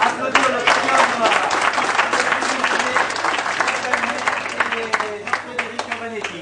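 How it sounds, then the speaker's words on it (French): A crowd applauds the podium finishers at a ceremony in Bourg d'Oisans, a sustained burst of many hands clapping close and loud, with crowd chatter underneath and a few sharper claps toward the end. "vous pouvez applaudir le podium"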